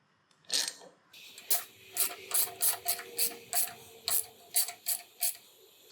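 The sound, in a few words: small wrench ratcheting on an LS engine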